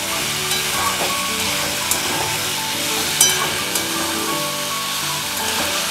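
Pieces of catla fish sauté in a spicy masala in a pan, a continuous bright sizzle and hiss with occasional stirring clicks and taps, close and steady throughout, with no voices.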